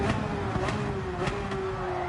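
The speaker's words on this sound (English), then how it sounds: "Doesn't really matter if we're bouncing off the rev limiter." A race car engine in a racing video game holds a high, steady buzzing drone at high revs, bouncing off the rev limiter with faint periodic bursts, continuous and fairly loud, with no talking.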